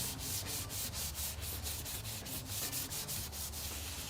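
Heavy coat of filler on handmade leg armor for a Protogen costume being sanded by hand at night, a continuous close rasping rub with regular back-and-forth strokes, alone and fairly quiet.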